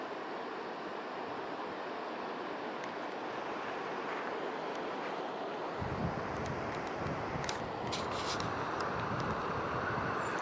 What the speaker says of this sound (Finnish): Vesi virtaa.